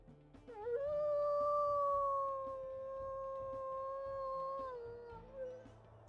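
A single long, mournful wolf howl rises, holds a steady pitch for several seconds, then dips and fades.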